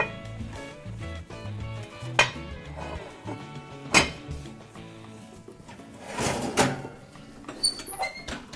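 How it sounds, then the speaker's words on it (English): A metal lid is set back onto a sourdough bread baking pan with a few clanks and scrapes of cookware, fairly close in a quiet kitchen. "the lid goes back on."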